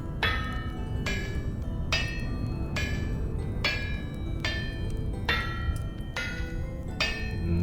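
Repeated metallic taps of a hammer on a chisel shaping stone in Vintage Story, about eight sharp ringing strikes at an even, steady rhythm over a constant background hum.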